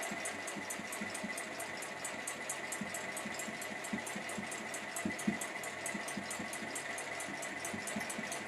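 Sewing machine stitching along a bag seam, with the outer edge held in line with the outer bag beneath; a steady, fairly loud mechanical whir with a rapid, regular needle rhythm runs throughout, with no talking.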